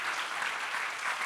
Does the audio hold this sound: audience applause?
yes